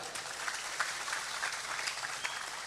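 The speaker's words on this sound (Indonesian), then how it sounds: "Boleh tepuk tangan." An audience at a live religious sermon in Tangerang, Indonesia, claps together in a fairly faint, continuous patter of many hands, heard from some distance.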